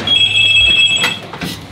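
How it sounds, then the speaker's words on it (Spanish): An elevator telephone rings with a shrill electronic trill, one continuous ring burst that is loud and close. "el teléfono del ascensor"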